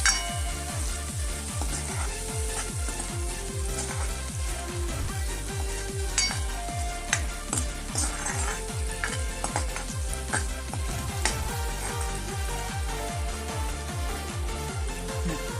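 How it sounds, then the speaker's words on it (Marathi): Paneer pieces frying in hot oil make a continuous close sizzle, with frequent light clinks and scrapes of a utensil against the pan and a rapid repeating low rumble underneath. "पनीर, त्याच्यामध्ये तळून घेऊया."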